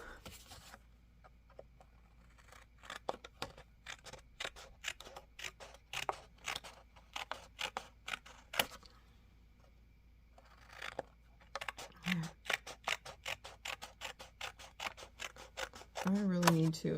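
Small scissors snipping through cardboard divider tabs, a close, crisp series of irregular clicks and cuts in bursts with short pauses between them.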